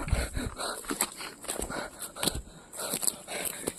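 A dog gives a few short, faint yelps and whimpers, mixed with scuffling movement, in a brief clip.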